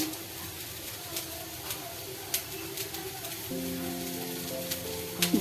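Two tablespoons of oil sizzling in a pan while seasonings fry for a vegetable stir-fry, a steady soft hiss with occasional light taps, growing a little louder partway through.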